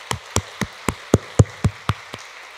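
A church congregation claps in unison, about nine sharp, evenly spaced claps at a brisk, steady rhythm that ends abruptly, close and distinct with no voices.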